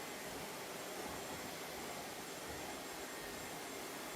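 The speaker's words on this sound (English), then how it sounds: "really loud hairdryer, and no one can hear me what I'm doing" A hairdryer blows with a steady, loud, unbroken whoosh of airflow and motor hum that stays constant throughout.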